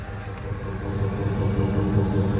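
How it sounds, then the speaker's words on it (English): A 2007 Ford F150 FX4 pickup with stock exhaust idles with a steady, deep, low engine rumble that swells slightly louder, close by and without talk. "It's got a nice little rumble even with the stock exhaust."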